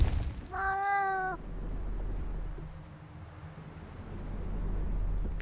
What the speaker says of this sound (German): Katze meckert.